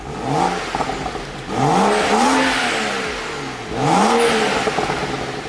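Exhaust of a BMW 335i with the muffler deleted, driven in sport plus mode: three loud, close revs that rise and fall, each trailed by crackling pops.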